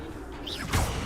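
A fire spell, Incendio, is cast in Hogwarts Legacy, giving a short rising whoosh followed by a bright burst of flame, loud and close.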